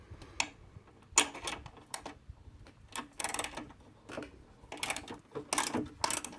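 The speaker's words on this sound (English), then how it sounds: "Remove this bolt." Engine mount bolt being loosened on a 3.5L Oldsmobile Intrigue, heard as a series of sharp metallic ratchet clicks and taps in irregular bursts, fairly close and moderately loud, with no talking.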